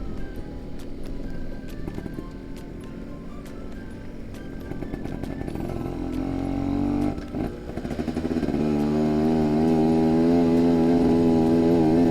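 A motorcycle engine running on old, weeks-stale fuel is held at steady throttle, its loud revving drone rising in pitch and intensity toward the end, heard alone and close.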